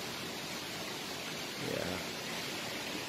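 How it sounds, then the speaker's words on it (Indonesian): Several small waterfalls about 20 meters apart at a jungle resting spot in Kampar, Riau, pour in a steady, broad rushing wash with no breaks, under one brief spoken word. "ada juga beberapa air terjun pas di depan tempat santai kita ini"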